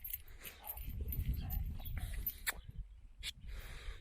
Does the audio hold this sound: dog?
yes